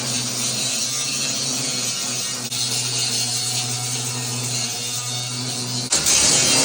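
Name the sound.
grinding down welds in a Grumman van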